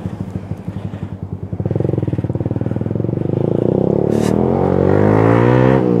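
A motorcycle engine putters at idle, then revs up into a loud, throaty roar through a noisy exhaust, close by and without speech.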